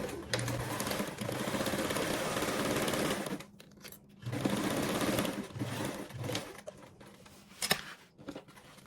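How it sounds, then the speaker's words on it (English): Sewing machine stitching a 1/4-inch seam, two steady runs of whirring stitches separated by a brief pause, then softer intermittent clicks and handling noises. "we're going to go ahead and sew this with a 1/4 seam allowance"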